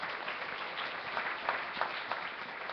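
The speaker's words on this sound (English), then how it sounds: "Give her a wonderful round of applause, please" Applause from a Hindu temple congregation at a Sunday service, a steady, dense wash of many hands clapping at moderate distance, sustained throughout with slight swells and no voices on top.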